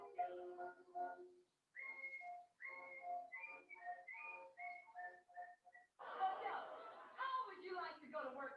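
A man whistles a cheerful tune in short melodic phrases, fairly close, with a brief pause partway through and a burst of chatter or voices near the end.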